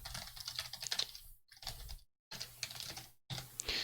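Fast keystrokes on a computer keyboard enter a service-restart command, a close, crisp burst of clicks broken by two brief pauses before the typing resumes.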